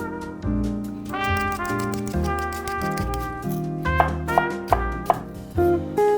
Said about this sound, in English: let's keep peeling, let's keep coring, let's keep slicing